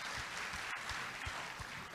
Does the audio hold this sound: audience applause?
yes